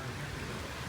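Steady rain pours during a severe thunderstorm with hail and tornado warnings in northeast Oklahoma, a dense even hiss with no break in the brief moment heard.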